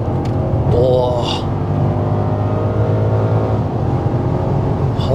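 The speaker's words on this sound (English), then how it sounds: "Let's just give it full throttle here, ladies and gentlemen" A Rolls Royce Cullinan accelerates hard at full throttle from inside the cabin, a deep steady engine roar building with wind and road noise, with a brief voice exclamation near the start.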